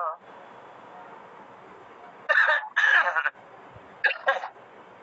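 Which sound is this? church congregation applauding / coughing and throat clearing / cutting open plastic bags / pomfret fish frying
coughing and throat clearing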